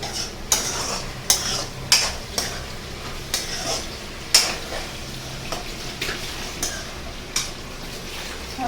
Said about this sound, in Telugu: ఓకే ఫ్రై అవుతున్నాయి, ఇంకా ఫ్రై అవ్వాలి